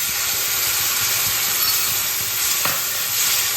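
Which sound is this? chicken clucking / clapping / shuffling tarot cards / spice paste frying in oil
spice paste frying in oil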